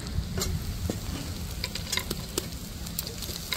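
Spiced chicken with cumin powder, coriander powder and chili flakes stirred in a pan: a steady close sizzle with scattered scraping clicks from the utensil, no voices.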